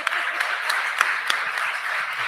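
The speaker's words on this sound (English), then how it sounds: "We're going to give her another round of applause" An audience at a forum applauds with scattered distinct claps standing out over a soft, steady bed of clapping, moderately loud throughout the short burst.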